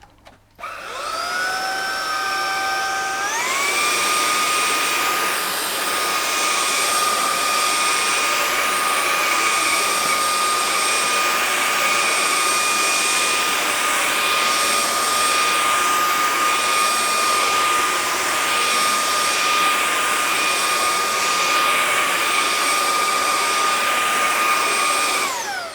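Lubluelu TPH06 cordless stick vacuum sucking up sawdust from a floor, a loud steady motor whine with a rising pitch shift at startup, then sustained high-pitched droning and rushing airflow throughout, no voices.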